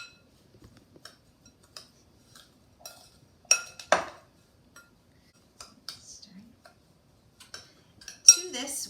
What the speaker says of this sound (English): So we could give this a little stir here as our stuffing starts to come together.